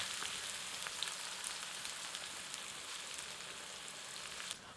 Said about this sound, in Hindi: अब इसमें 1 टीस्पून जीरा डालकर पुनः कुछ क्षण भूनते हैं।